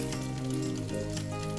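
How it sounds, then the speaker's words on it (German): Egg frying in a hot pan beside crisp bacon gives a steady, loud sizzle and crackle throughout, close up with no talking. "Einfach kurz in der Pfanne anbraten"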